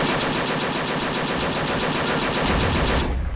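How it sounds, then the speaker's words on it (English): A .50 cal machine gun fires a long, continuous burst in the Men of War: Assault Squad 2 video game, loud and dense with rapid, steady repeating reports that stop abruptly near the end. "Oh, what was that firing off? Was that our 50 cal?"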